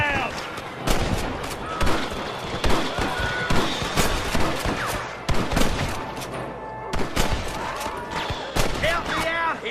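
Rapid gunfire from a Red Dead Redemption shootout against rustler guards, loud and dense with overlapping rifle and pistol cracks, the shots coming in quick irregular bursts throughout, with occasional shouted voices mixed in.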